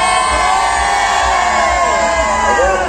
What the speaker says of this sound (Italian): voglio sentire l'urlo dei siciliani!